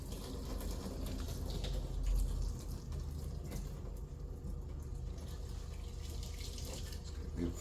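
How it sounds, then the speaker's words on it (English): Parts washer pump running with water flowing and splashing steadily, a continuous low, close wash of liquid noise with a soft pump hum. "Let's get the pump on. Let's see if it kicks up yet."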